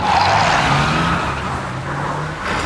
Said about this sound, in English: Mrs. Badger is driving her tractor.